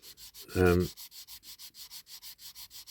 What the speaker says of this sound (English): Don't keep sanding because you'll feel the plastic warm up